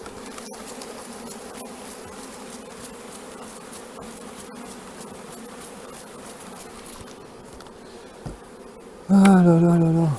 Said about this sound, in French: les abeilles sont en train de se sauver là.